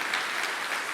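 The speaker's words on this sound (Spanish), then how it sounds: "Dele el aplauso" Brief burst of congregation applause in a church service, many hands clapping in a dense, steady wash lasting under a second with no voices on top.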